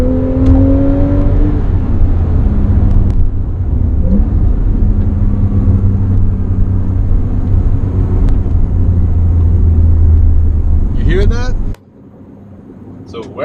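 Low, steady rumble from a 2017 Porsche 911 Carrera S engine and exhaust, sustained close and loud for most of the clip, with talk over it, then dropping away sharply near the end.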